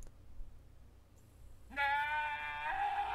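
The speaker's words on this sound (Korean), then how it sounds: "매우 평범한 염소의 소리였네요" A goat bleats once, a single sustained, wavering cry that starts partway in and holds loud and clear to the end after a quiet lead-in.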